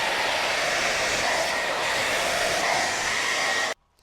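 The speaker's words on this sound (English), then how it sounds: "I will take my hairbrush, I will take my hairdryer, and then you will use heat." Hair dryer blowing continuously as hair is styled with a hairbrush, a loud, steady rushing whir close by that cuts off abruptly near the end.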